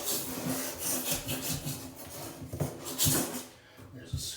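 A scraper working paint and drywall mud off screws in a pantry wall, giving close, repeated rasping strokes in short uneven bursts.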